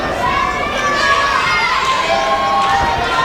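Wrestling crowd at an independent show cheering loudly and continuously, a dense roar of voices with high-pitched shouts and whistles rising over the arena.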